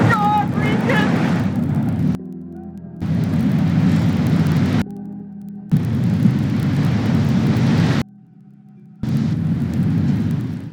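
An F5 tornado tearing through a mobile home park in Andover, Kansas: a heavy, roaring wind rumble in loud chopped bursts separated by brief gaps, with a voice shouting over the start.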